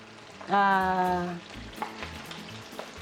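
Chicken wings deep frying in hot oil in a home kitchen pan, a constant close bubbling sizzle with an occasional clink as they are stirred, a short tonal beep-like hum near the start, no speech.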